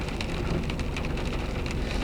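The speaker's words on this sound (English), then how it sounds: "And then today is 11/11, and the rain's just started." Steady rain falls and patters on surfaces throughout, a dense even wash with scattered drop ticks and no voices, as a wet November day sets in near a river expected to rise.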